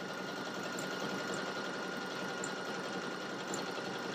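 A sewing machine quilts fabric with a fast, steady, close mechanical whir that runs without pause, and no talking.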